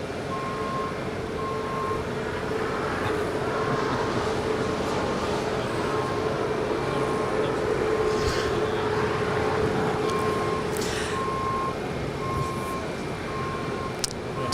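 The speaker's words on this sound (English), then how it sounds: "Aeromexico, Flight 646, coming in from Mexico City, a 787-8 Dreamliner, touching down on 25 left." An Aeromexico Boeing 787-8 Dreamliner from Mexico City touches down on runway 25 left at Los Angeles International Airport, with a steady, loud engine and rushing roar that holds throughout under a faint background tone.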